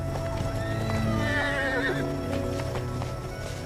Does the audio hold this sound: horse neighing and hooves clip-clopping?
yes